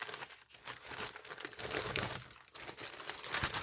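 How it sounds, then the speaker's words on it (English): A plastic advent calendar bag crinkles and rustles up close. The crumpling is continuous and fairly quiet, with no voices over it. "Sorry for the rustling."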